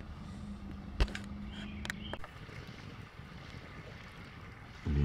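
Steady wind gusting across an outdoor campsite beside a campfire in early spring, a broad continuous rush with a couple of brief knocks and a louder buffet at the very end, no talking.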